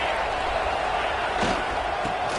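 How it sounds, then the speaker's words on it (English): A packed football stadium crowd roars in a dense, continuous wall of noise, loud and steady throughout with a few sharper swells, and no distinct talking. "listen to this crowd noise. This stadium is vibrating."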